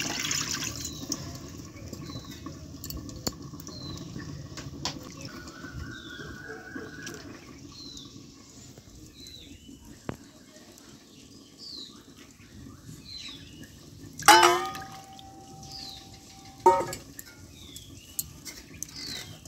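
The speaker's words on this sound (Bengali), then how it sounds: "মাছগুলো আমি খুব ভালো করে ধুয়ে নেব।" Prawns are rinsed in water, with quiet intermittent splashing, trickling and dripping close by, a few louder sloshes and clatters near the end, and no speech.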